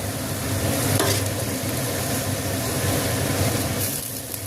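Steady sizzling and scraping of rice and vegetables being stir-fried in a hot pan, continuous and close, with no talking.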